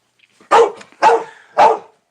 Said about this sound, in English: if you're going to keep barking